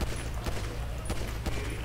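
Gunfire at a shooting range in the GTA FiveM video game, a burst of several loud, sharp shots in quick succession over a steady low background rumble.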